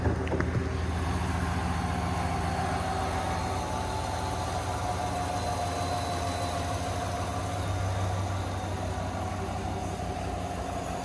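A 2020 Chevy Silverado engine idles in a steady, even low rumble with a faint starter burst at the opening, continuous and fairly loud throughout without speech.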